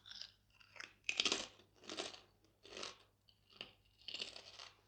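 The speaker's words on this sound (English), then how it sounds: "with the like Senbai, you get a really good crunch." Crunchy Japanese rice-cracker snack chewed close to the mouth, giving loud crisp crunches in steady bursts of about one per second, with no talking.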